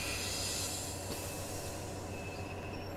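DB Regio VT 628 diesel railcar in Train Sim World 3 pulling into a station on the Maintalbahn, with a continuous low engine and rolling rumble under high-pitched wheel squeal as it slows to a stop.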